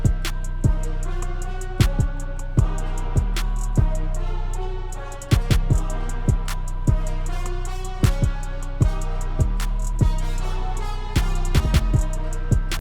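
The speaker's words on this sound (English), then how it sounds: "But this is what the choir sounds like." An Ableton synth choir patch called Choir Omnia plays sustained chords over a steady programmed beat with sharp percussive hits, all at an even, full level.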